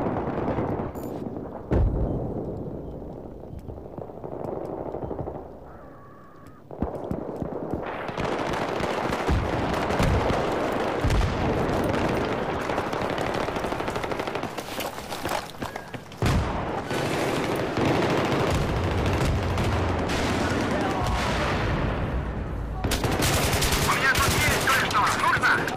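Battlefield 3 gunfire comes in loud, dense bursts of rapid shots and explosions, with brief gaps, then heavy continuous fire through most of the stretch, game sound with no clear talk.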